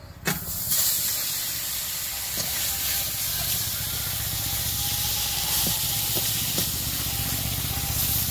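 Pieces of silver carp fry in hot oil with a loud, close, continuous sizzle and hiss. A sharp crackling burst comes at the start, and a few softer pops follow.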